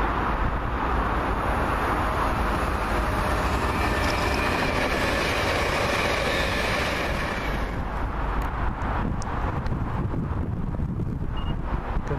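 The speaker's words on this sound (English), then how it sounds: "Got a fast train from Drossen Harbour to" A fast train passes on the railway near Cardonald, Glasgow, a loud continuous rumble and rush of wheels on track that holds steady for most of the clip, with wind buffeting the microphone and a lighter rattling tail as it fades.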